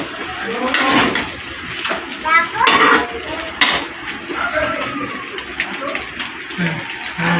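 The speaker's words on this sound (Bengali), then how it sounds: "বাসন মাজা হয়ে গেছে" Dishes, pots and pans clatter and clink under running water as they are washed in a home kitchen, with scraping and splashing in irregular bursts.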